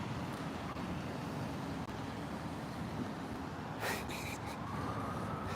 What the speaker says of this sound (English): There's a siren right now.